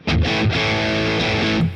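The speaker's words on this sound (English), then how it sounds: "the tone on the distortion sound inside the Boss Katana is quite savage" Electric guitar played through the distortion channel of a Boss Katana amp, a loud, saturated sustained chord ringing steadily for under two seconds with no talking.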